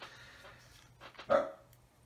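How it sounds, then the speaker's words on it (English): A lone dog barks once in a home where a plastic model kit is being assembled. The bark is short and moderately loud, with a faint hum underneath. "Sorry about the dog, guys."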